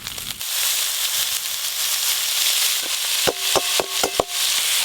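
Boiled banana flower mixed with chopped green chilli frying in a pan, a steady close sizzle with a few sharp scraping knocks of stirring near the end.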